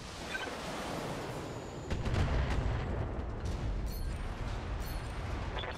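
Mech weapons in BattleTech fire in a dense rumbling barrage, with low booms and crackling blasts that swell after the first two seconds and continue steadily to the end.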